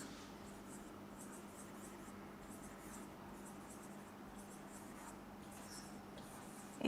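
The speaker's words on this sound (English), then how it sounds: "I'll write here the first example, inaugural speech." Chalk or marker writing on a board to set down a first example, a soft steady scratchy texture heard faintly and alone, with no talk over it.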